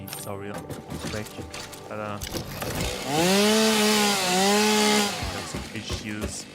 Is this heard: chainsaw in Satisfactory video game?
yes